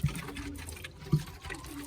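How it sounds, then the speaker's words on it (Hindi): Cold water is poured onto loose soil inside a chicken coop, giving a short, soft, uneven splashing with a couple of heavier splats. "अब इसमें डालेंगे हम पानी डालेंगे ठंडा,"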